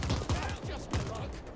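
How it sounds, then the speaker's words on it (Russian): Rapid bursts of gunfire in the sci-fi shooter The Ascent, a dense stuttering fusillade with several heavier shots standing out, loud and close throughout. "Стрельба поверху, стрельба понизу"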